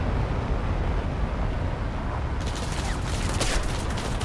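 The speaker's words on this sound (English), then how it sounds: "he's shooting at me. Please don't shoot at me. Oh no, he hit me." Rapid gunfire from aircraft guns during an air battle in a combat flight game, a dense crackling burst that starts partway through over a steady engine roar.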